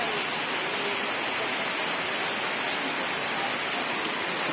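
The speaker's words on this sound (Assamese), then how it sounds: "এতিয়া বৰষুণ দিছে, ঘৰ যাব লাগে। বৰষুণ দিছে পুৰা" Heavy rain pours down steadily, a dense, even hiss of falling water that stays loud and unbroken throughout, with no voices.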